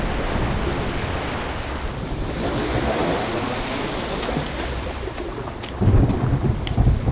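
A steady thunderstorm roar fills a horror survival game, with heavy rain hiss and rolling surf-like waves throughout, swelling louder toward the end with a deeper rumble.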